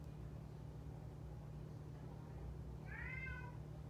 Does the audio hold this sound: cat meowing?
yes